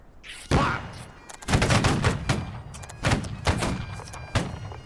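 Musket volleys from line infantry in the Napoleonic-era game Holdfast: Nations at War, several loud booming shots in ragged succession with rolling echoes between them.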